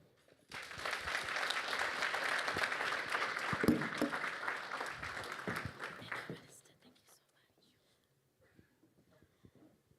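An audience at an awards gala dinner applauds the Deputy Minister's speech: dense, steady clapping from the whole room lasts about six seconds, then dies away into a quiet hall.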